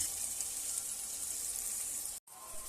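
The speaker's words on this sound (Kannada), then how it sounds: "mixie ಮಾಡ್ಕೊಂಡಿನಿ ನೀರುಳ್ಳಿನ fry ಆಗಬೇಕ್ರಿ" Onions frying in a pan for tomato bath give a steady, soft hiss and crackle close by, broken by one brief cut, with no talk.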